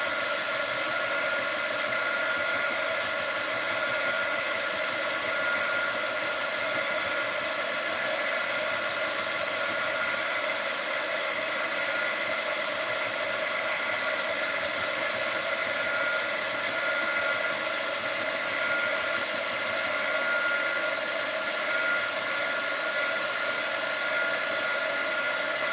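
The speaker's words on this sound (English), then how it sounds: "Let's hit this with the heat gun first." Heat gun blowing hot air over a craft project, a steady, close fan hiss and whir that runs unbroken at an even level for the whole stretch.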